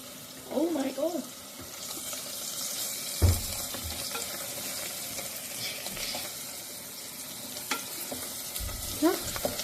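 Ground black pepper drops into hot oil and sizzles, a steady frying hiss with a few knocks and scrapes from the pan, close by, while a voice speaks briefly now and then.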